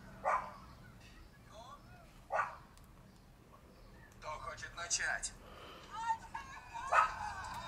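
Dogs bark and yip from a video playing through the small speaker of a Cube U23GTS tablet, heard as scattered tinny barks with a whimper between them, while a person speaks at times.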